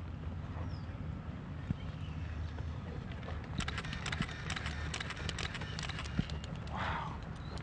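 A horse passes the camera at a Muybridge-style motion photography shoot, its hooves clip-clopping in a quick rhythm over steady wind and ambient noise, with a few louder clicks partway through.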